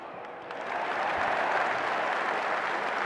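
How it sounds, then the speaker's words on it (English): Home supporters applaud a football player in a stadium crowd at a Championship match between Coventry City and Norwich City. The clapping is broad and distant and swells after a quieter start into steady, sustained applause. "Reggie Wright getting a round of applause from the home supporters"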